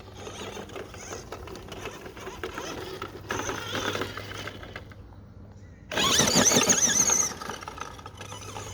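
A Tamiya Lunchbox RC car with a silver-can motor on a 2S LiPo battery drives over grass, its whining motor and gear noise running steadily, then surging louder and harsher for about a second during a wheelie.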